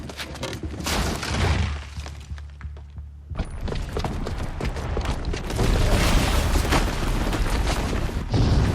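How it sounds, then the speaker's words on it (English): Loud bomb blast inside the game Horizon Zero Dawn with crashing booms, shattering debris and rumbling aftershocks over several seconds, a brief lull, then more heavy bursts and clattering collapse. "the booby trap on the bomb downstairs is gonna get set off"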